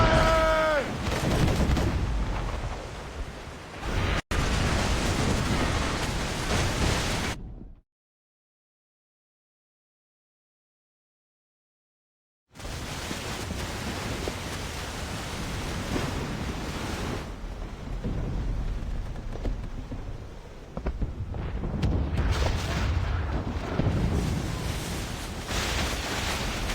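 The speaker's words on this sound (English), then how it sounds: "They're firing mortars!" Mortars and cannons fire at sea during a naval battle in Assassin's Creed Rogue, with heavy rumbling blasts mixed into wind and surf noise, broken by a few seconds of total silence.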